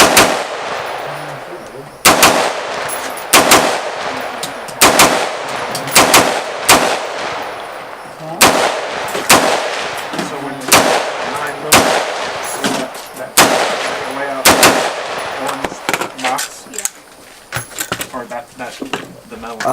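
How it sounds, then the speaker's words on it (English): Rapid semi-automatic shots ring out from an entry-level AR rifle at a shooting range, about a dozen loud, sharp cracks in uneven bursts, some with short gaps between strings of fire. "let's finish off this round and see if some rapid fire"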